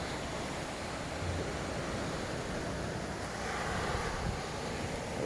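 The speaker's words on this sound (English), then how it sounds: "Right in front of the sea, people." Sea surf rolls onto a black sand beach in Jamaica as a continuous broadband wash of waves mixed with wind, heard from close by without any voices.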